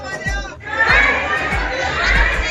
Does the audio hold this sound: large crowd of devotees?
yes